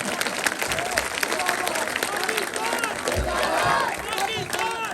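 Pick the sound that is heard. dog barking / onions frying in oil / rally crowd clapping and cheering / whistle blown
rally crowd clapping and cheering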